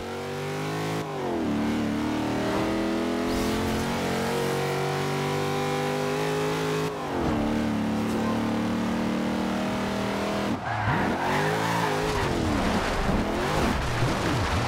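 A Corvette C7 engine in Forza Horizon 2 revs hard while drifting, its loud close growl repeatedly climbing, dropping between shifts and surging again, with tire squeal joining toward the end.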